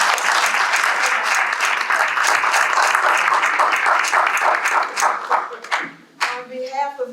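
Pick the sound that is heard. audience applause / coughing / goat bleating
audience applause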